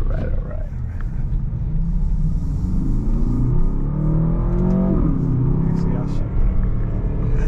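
An Aston Martin DBX 707 accelerates hard, its engine rumbling deep and loud up close with rising rev tones as it pulls away, while a person talks over the roar.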